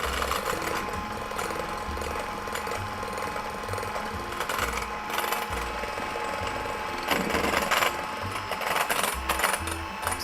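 An electric mixer beats egg whites to stiff peaks for an orange cake, giving a steady, fairly loud mechanical whir with a faint rhythmic rattle that runs the whole time with no talking.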